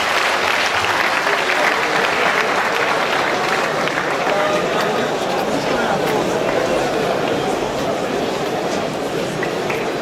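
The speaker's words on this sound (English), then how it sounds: "another round of applause for our eminent lecturer" An audience at a University of Benin lecture gives the eminent lecturer another round of applause: continuous, dense clapping from a large crowd, loud and unbroken for the full stretch, with some voices mixed in.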